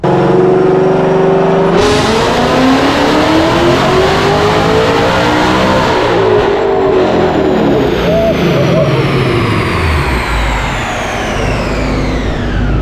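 A loud, powerful Whipple-supercharged S650 Mustang GT engine revs hard in one long dyno pull, its pitch climbing steadily under a supercharger whine before easing off near the end.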